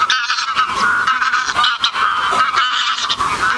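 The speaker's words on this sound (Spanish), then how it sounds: "ganguean los gansos silvestres" Wild geese honk loudly and close, many overlapping nasal calls in a continuous noisy chorus recorded in Spanish countryside.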